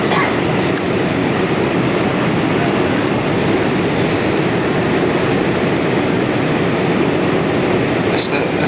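Inside the cabin of a Delta Boeing 747-400 landing at Centrair Nagoya, a steady, loud broadband roar of engines and airflow persists throughout with little change.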